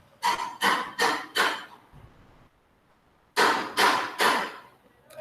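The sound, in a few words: someone hammering nearby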